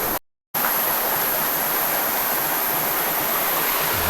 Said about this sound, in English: Another little waterfall there.